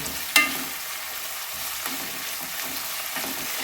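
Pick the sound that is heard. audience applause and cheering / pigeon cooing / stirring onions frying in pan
stirring onions frying in pan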